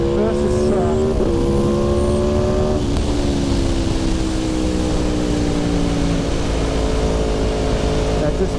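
An Aprilia motorcycle riding an in lap on a race track, a loud close engine drone whose pitch shifts through gear changes, easing down and then climbing again, with a voice talking over it.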